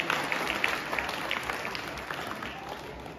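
Steady applause from a college Children's Day event crowd, dense continuous clapping at an even level throughout, with no pause.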